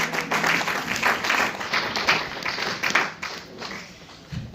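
A church congregation applauds the Lord during a French-language sermon, sustained clapping with crowd noise and scattered voices running throughout, fairly moderate and steady before tapering near the end.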